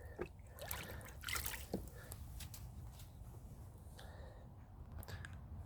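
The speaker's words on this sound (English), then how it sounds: "get something to just stir them around with. Just use my hand just to get them to mix up" A hand swishes and stirs dissolving dishwasher tablets through a bucket of hot water, giving soft, faint sloshing and trickling with a few brief splashes.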